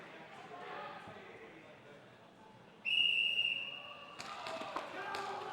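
A referee's whistle gives one sharp, sustained blast that kicks off a match at a dart tournament, loud over the steady murmur and chatter of the crowd, followed by thumps and clatter.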